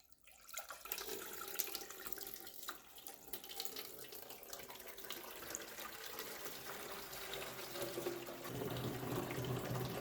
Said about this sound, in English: Now before using for the first time we need to insert the water.